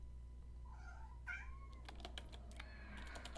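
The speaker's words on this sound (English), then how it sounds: "That was my cute cat, who is really opposed to me playing past midnight instead of cuddling me." A house cat meows several times, loud and close, its wavering cries mixed with clicks of computer keyboard typing during a late-night warrior-class gaming session.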